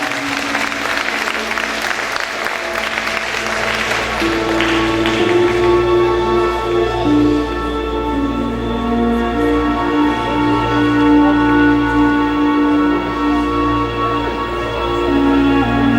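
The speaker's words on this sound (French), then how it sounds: "Chelsea, vous allez applaudir très très fort s'il vous plaît" An audience applauds for Chelsea Laudois at a French pageant results ceremony, with steady, dense clapping lasting throughout and sustained music tones beneath it.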